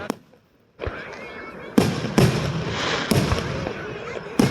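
Fourth of July fireworks burst in a steady barrage after a brief quiet start, with repeated loud booms and a continuous crackling, sparkling glitter effect filling the air between blasts.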